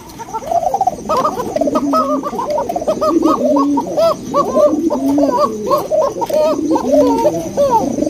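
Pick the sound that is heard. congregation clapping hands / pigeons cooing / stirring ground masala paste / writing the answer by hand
pigeons cooing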